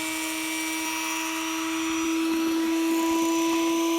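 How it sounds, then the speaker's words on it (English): A Dremel rotary tool spins a screw, giving a steady, loud, high-pitched whine with a strong constant tone that continues unbroken throughout. "just run the screw into the Dremel tool"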